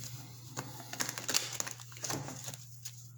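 Soft, quick riffling and tapping of tarot cards being shuffled, a few short bursts close by over a low steady hum.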